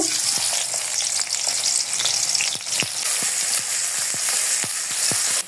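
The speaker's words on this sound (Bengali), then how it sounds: "সামান্য কিছু পেঁয়াজ কুচা দিব।" Chopped onions frying in hot oil for a chicken masala, a steady loud sizzle with scattered sharp pops and crackles throughout, close up and with no voices.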